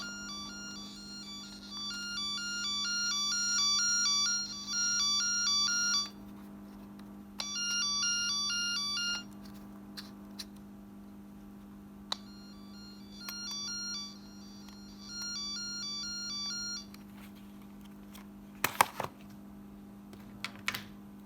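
Network cable tracer remote emitting repeated bursts of high electronic beeping tone while scanning an RJ45 network cable, pulsing in on-off stretches over a steady low hum, with a few small clicks near the end.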